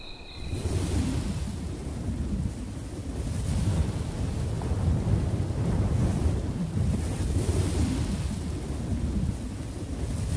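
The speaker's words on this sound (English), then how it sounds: "The dry desert wind blows throughout the day." Dry desert wind blows steadily throughout as a continuous broad rumbling roar, loud and close, rising and falling slightly with gusts.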